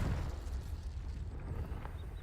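A Confringo spell blast in the Hogwarts Legacy game: a loud, dense, rumbling burst that roars steadily for a couple of seconds, close and full, with no voice over it.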